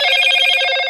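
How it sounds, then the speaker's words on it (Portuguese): A phone notification chime rings out in a single bright, trilling burst, lasting about a second, loud and close with no voices over it. "Desculpa o som da notificação aí, então."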